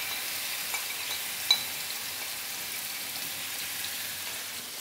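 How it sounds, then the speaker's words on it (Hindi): Chicken pieces going into hot oil in a frying pan give a faint, steady sizzle with a few small pops and clicks. There is no talking. "अब हम इसमें चिकन ऐड कर देंगे।"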